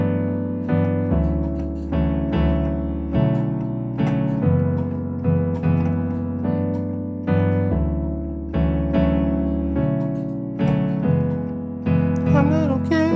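Solo piano plays an easy R&B arrangement of a song, with steady, sustained chords and a flowing melody at a moderate, even volume and no voices.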